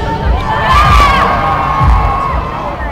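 A large crowd of kids and adults cheering, whooping and screaming at a live stunt show, loud and sustained with swelling peaks, no clear speech over it.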